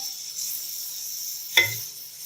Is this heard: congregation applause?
no